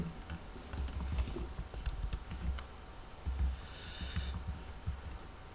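Steady typing on a computer keyboard while personal details are entered into a website form, a run of quick soft key clicks with brief pauses and one denser burst near the end, with no talking.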